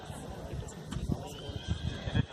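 Horse at a horsemanship training event, with faint irregular hoof thuds and a brief whinny-like sound, low in level under a noisy outdoor background and a voice speaking.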